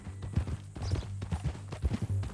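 Hoofbeats of a horse walking in Red Dead Redemption 2, a steady clip-clop of close, distinct steps over a low steady hum, with no talking.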